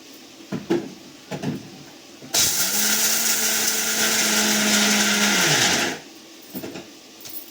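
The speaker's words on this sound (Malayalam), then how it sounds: "നമുക്ക് കടല പൊടിച്ചിട്ട് വരാം" A mixer grinder grinds kadala (chickpeas) in one loud, steady whir lasting about three and a half seconds, starting abruptly and winding down at the end, with faint kitchen clatter before and after.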